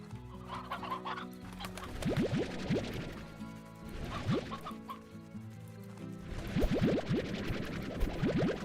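Chickens cluck and chatter in the Slime Rancher video game, a busy ranch flock calling in short repeated bursts with rising squawks, over a steady bed of game ambience.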